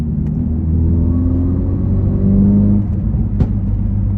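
A Ford Focus RS engine hums steadily with a low rumble, its pitch rising and falling slightly as it accelerates, with a brief click near the end.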